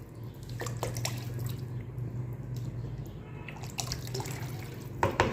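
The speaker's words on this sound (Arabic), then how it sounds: "ناقصة نعبي لها مي منيح عشان تكون مرقتها ظريفة" Water runs steadily from a tap into a cooking pot of green beans with chicken, a continuous close splashing pour with a few brief drips and clinks.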